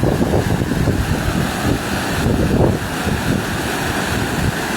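Violent flood water rushing through the Wadi Awrif valley after heavy rain makes a loud, continuous churning roar with wind buffeting the microphone, and no voices.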